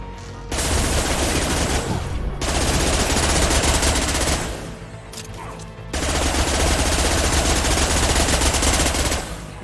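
Sustained automatic gunfire from a Cerberus weapon in Mass Effect 2, loud dense bursts of several seconds each, split by short pauses with no talk.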